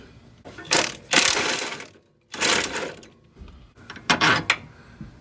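A power tool, likely an impact wrench, bursts in three short loud runs with brief pauses as it breaks loose a 19 mm lower control arm bolt on a 2003–2011 Honda Element.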